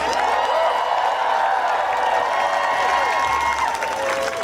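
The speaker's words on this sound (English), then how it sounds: "Let's get a nice round of applause." Outdoor crowd at a grad student union strike rally on the Temple University campus in Philadelphia gives a sustained round of clapping and cheering, dense and loud from start to finish.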